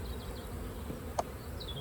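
Honey bees around a beehive, a faint thin buzzing with brief passes of individual bees drifting near and away, over a soft outdoor hum.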